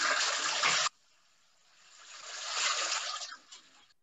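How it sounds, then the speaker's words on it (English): A toilet flushing close by: a loud rushing burst of water that cuts off abruptly, then a softer refill surge that rises and trickles away, with no talking. "It was flushing the toilet."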